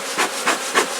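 Honey bees buzzing around an opened hive late on an overcast day, a dense, continuous hum that swells in three rough waves, close and fairly loud, with no talking.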